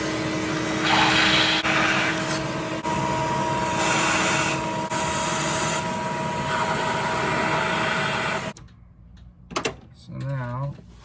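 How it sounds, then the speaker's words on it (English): Vacuum cleaner sucking debris out of a 2004 Toyota Sienna engine bay during a spark plug change, a steady loud roaring hiss for several seconds, then cutting off to near quiet with a few small clunks and a brief voice. "I'm gonna get a vacuum cleaner"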